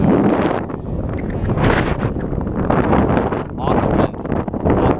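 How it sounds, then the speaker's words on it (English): Strong wind in an extreme snowstorm buffets the microphone in loud, gusting surges, while someone talks over it. "Awesome wind."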